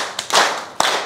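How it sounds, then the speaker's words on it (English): A conference audience in Dar es Salaam claps in unison three times, each a sharp, loud crowd clap followed by a brief trailing spatter, with no voices over it. "clap 3 times"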